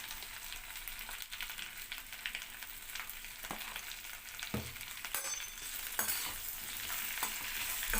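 Okra with turmeric frying in a pan for a dhaba-style fry, a continuous hiss and crackle with intermittent spatula scrapes and knocks as it is stirred, close and without speech.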